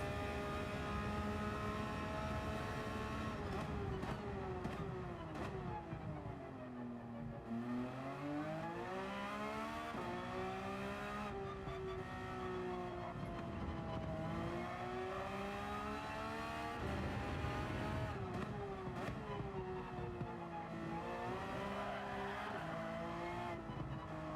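A Porsche race car in the video game Gran Turismo 7 at the Nürburgring GP. The engine revs up and down continuously through gear changes and corners, loud and close throughout, with faint tire noise.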